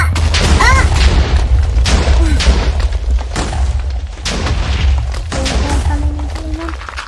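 Explosions in the video game Minecraft, several sharp booming bursts in quick succession with crackling debris, punctuated by short in-game tones and mixed with a player's voice.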